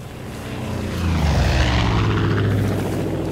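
Propeller plane engine in the video game Far Cry 5, a steady loud drone that swells after the first second and holds close and strong.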